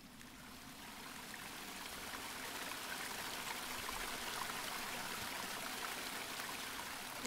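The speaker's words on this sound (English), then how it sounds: "It's ever so mildly annoying, that water." Running water from a stream, a faint, steady broadband trickle and babble that swells slightly and continues throughout without other sounds.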